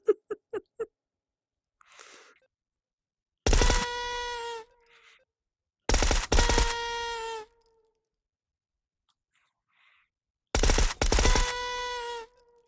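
Gunfire in the VR game H3VR: a few quick sharp shots, then three loud, extended volleys of rapid fire that ring out, separated by near silence.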